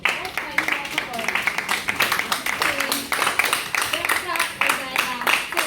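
Audience applause after a speaker's introduction at a talk on women professionals, a dense, steady patter of many hands clapping close by, with a few voices heard beneath the clapping throughout.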